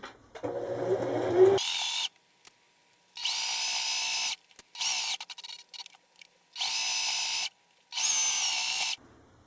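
A sewing machine stitches fabric for a small bunny basket. One long run is followed by several separate bursts of steady, high whirring, with short pauses between them.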